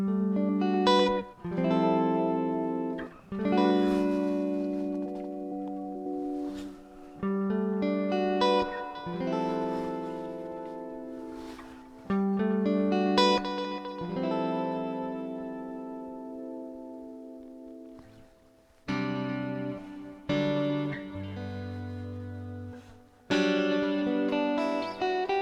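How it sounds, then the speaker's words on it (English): Electric guitar run through delay and reverb, ringing chords and single notes with long echoing tails that overlap and fade into a spacious wash, played alone with no talking. "With a bit of delay and reverb."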